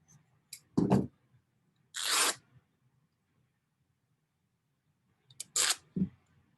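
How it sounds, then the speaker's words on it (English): Scissors cut straight across muslin fabric in a few crisp, separate snips with short pauses between them, close and fairly quiet. "I want to get a straight edge, so I'm going to cut it across"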